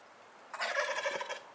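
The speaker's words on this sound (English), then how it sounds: "Looks like those turkeys are gonna go try to get some cat for dinner." Wild turkeys gobble while chasing a cat outdoors, one loud rapid burst of rattling gobbles lasting about a second, close and clear against a quiet background.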